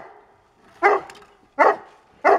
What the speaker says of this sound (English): And hopefully he'll stop barking for the video.